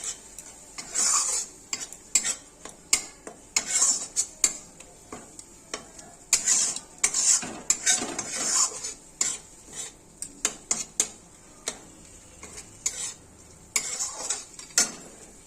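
Masala for egg muitha fried in a pan with a splash of water, stirred in brisk, irregular scrapes and taps of a metal utensil against the pan, close and crisp over a quiet sizzle.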